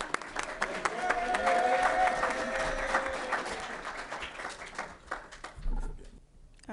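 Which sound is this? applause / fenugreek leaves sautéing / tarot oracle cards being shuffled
applause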